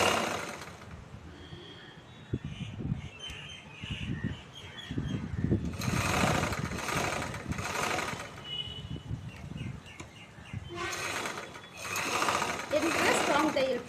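A sewing machine stitches a chudithar in bursts, running slowly around curves, with quiet pauses between runs and a person speaking at moments alongside the mechanical hum.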